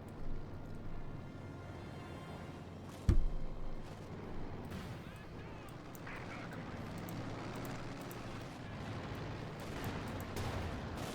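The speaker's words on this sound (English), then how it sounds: "Great hit there from the field gun on the rear of the Panther" A field gun in Company of Heroes 2 fires on a Panther tank, a single sharp, loud boom with a brief rumble standing out from a steady background of distant battlefield gunfire.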